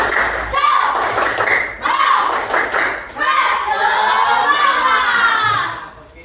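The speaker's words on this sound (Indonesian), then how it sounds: "sebelum itu kita tepuk semangat dulu lagi" An elementary classroom doing a rhythmic spirit clap, with children clapping in patterned bursts and shouting along in chorus, loud and close, with a few thumps and lively voices throughout.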